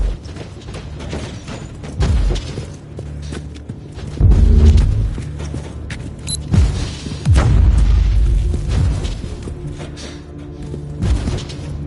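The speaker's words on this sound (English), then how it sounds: "The Marauder bombers are launching a second wave of bombardments." Artillery bombardment from bomber aircraft in the Warhammer Inquisitor game, heard as a series of deep booming impacts spaced across the clip, several loud low-end blasts rolling under ongoing mechanical game noise.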